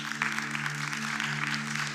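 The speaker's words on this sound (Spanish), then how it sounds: "De un aplauso de victoria" A church congregation claps briefly and steadily at the close of a service, moderately loud, with a sustained organ or keyboard tone held underneath.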